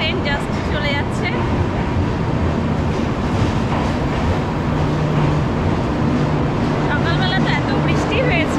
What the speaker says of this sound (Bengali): ওই যে আমাদের ট্রেন জাস্ট চলে যাচ্ছে।